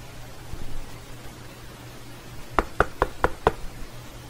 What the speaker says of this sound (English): the big bad wolf appeared and knocked the door of the house built of hay